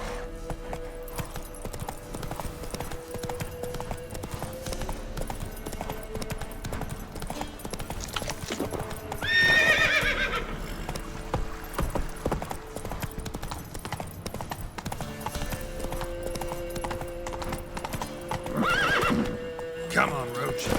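Roach, the horse in The Witcher 3, gallops with steady clip-clopping hooves over game music and ambience, letting out a loud whinny near the middle and another fainter one near the end.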